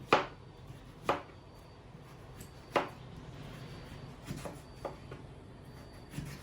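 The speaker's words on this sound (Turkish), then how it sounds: "Üçüncü patatesimi de doğruyorum." Potatoes are cut with a small knife on a board for a baked béchamel potato dish, giving a few sharp, sparse knocks over a quiet background with soft scraping in between.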